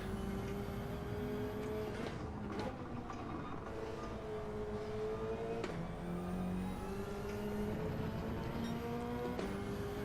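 Dodge Viper race car in Gran Turismo, its engine droning steadily with pitch rising and falling through gear changes, a continuous moderate-level roar across the whole stretch.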